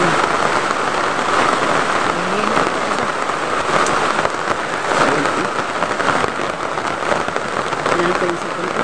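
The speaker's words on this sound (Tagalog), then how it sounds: "Ulan." Steady rain patters on a surface, a dense continuous hiss with occasional louder drops, with voices talking faintly underneath.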